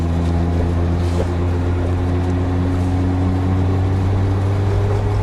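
A Nissan Skyline GT-R R32 engine idles at low RPM with a steady, deep, even burble that holds throughout, close and fairly loud with no talk over it.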